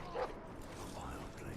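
Dogs yip and bark in a Game of Thrones video game near Castle Black, short high calls under dense background sound, with a faint voice mixed in.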